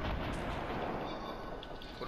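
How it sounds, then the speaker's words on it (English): A rocket fired in Fortnite Battle Royale during a squads match, heard as a sustained rumbling blast with a dense, noisy roar that fills the clip and stays fairly steady before easing slightly. "Shooting a rocket at him."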